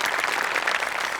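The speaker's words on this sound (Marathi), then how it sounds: "एकदा जोरदार टाळ्या त्यांच्यासाठी सुद्धा" A studio audience claps for journalist guests on a Marathi comedy show, a brief burst of dense, fairly loud applause that holds steady for just over a second.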